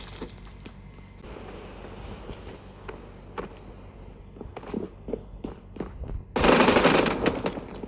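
Gunfire in the mobile shooter PUBG Mobile, with an M249 light machine gun in play: scattered sharp shots and footsteps build to a loud, dense burst of automatic fire near the end, with no talking.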